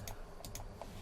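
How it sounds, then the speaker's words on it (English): Calculator buttons being pressed during a chemistry lesson on converting particles to moles: a handful of quiet, sharp clicks spaced unevenly across a second, with no talk. "Let me bring out the calculator so you can see how you should be punching this in."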